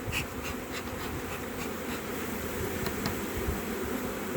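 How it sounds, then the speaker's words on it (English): Flying honey bees around a beehive during queen grafting: a dense, continuous buzzing of many bees close by, steady and unbroken, with no talking. "The flying bees I'm not as concerned with."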